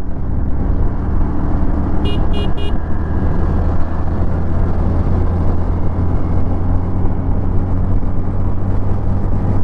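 Bajaj Platina 110 Fi motorcycle, a 2025 model, accelerating through its gears on a road, its engine a steady loud drone throughout with a brief horn-like toot near the start.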